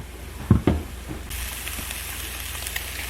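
Beef and broccoli stir fry vegetables sauté in a hot pan over medium-low heat, a steady soft sizzle preceded by a couple of clunks as the pan or utensil is handled.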